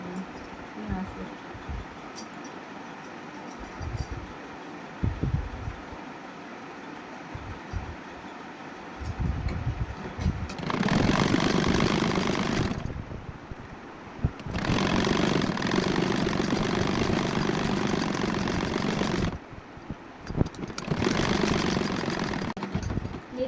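A sewing machine stitching a fabric strip onto a suit, running in two long loud whirring bursts separated by a short pause, after a quieter stretch of handling noise.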